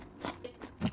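Crunchy dried strawberries are bitten and chewed close up, giving four quick, crisp crunches in about a second, the last the loudest, with no talk.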